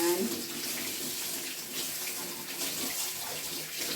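Hands being washed under a running tap make a steady, close rush of flowing water that continues throughout with slight splashy variation.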